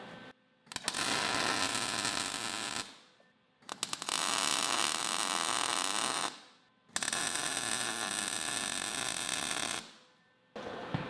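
Tack welding a steel plate onto a quad trailer's pipe produces three sustained, loud crackling buzzes, each lasting a couple of seconds with short silent pauses between them. The welding is close, with no talking.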